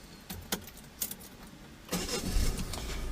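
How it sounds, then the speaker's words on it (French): A Volkswagen car in a driving-test setting: keys jangle in a few sharp bursts, then the engine cranks and catches, settling into a steady close idle. "Je vous laisse mettre le moteur en route."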